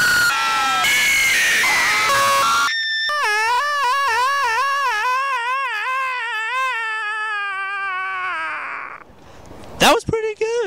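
A group of people screams together at the Netherworld haunted house, one long, loud, wavering shared howl that trails off, followed by a couple of sharp bursts.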